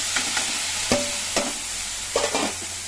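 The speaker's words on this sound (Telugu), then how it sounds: "ఈ సైడ్లో ఇది ఎగుతూ ఉంటాయండి" Vegetables for a fenugreek-leaf onion chili dish fry in a pan, giving a steady low sizzle broken by several distinct stirring scrapes and clinks, close up with no talking.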